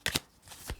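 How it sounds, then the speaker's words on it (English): Tarot cards being shuffled by hand: a few quick, soft riffling bursts, close and quiet, with short gaps between them. "So you think of your question and I'll shuffle the cards."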